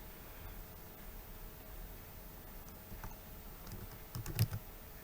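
Quiet, sparse keystrokes on a computer keyboard while Python code is typed, with a short burst of louder taps near the end and no talking.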